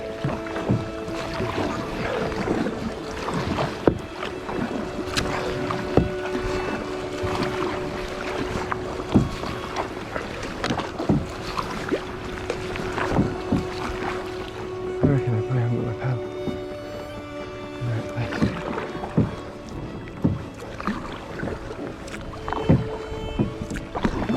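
Paddling a boat across water near an outer reef, with steady splashing and rhythmic paddle strokes, wind noise and occasional talk layered over the water sounds.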